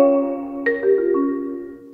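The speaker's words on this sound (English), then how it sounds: "marimba" A marimba sounds a few mellow struck notes in a short melodic run, each wooden bar tone ringing briefly before the next, played solo and close.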